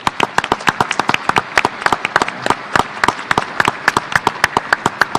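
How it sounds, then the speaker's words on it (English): Loud, close applause from an audience after a university and Ohio Valley Conference press event, a steady patter of many sharp claps running for about five seconds with no talk over it. "Let's give this a round of applause, please."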